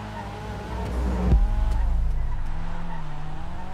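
A car drifts in the GTA roleplay video game, its engine droning steadily while the tires skid and squeal, loud and close, with no talk over it.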